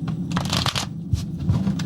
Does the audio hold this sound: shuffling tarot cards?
yes